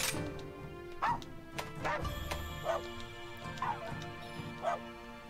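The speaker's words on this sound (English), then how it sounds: "Voice for dog." Dog voice sounds from the video game Monster Hunter Rise: several short yips and barks spaced about a second apart, over soft menu music, with someone talking now and then.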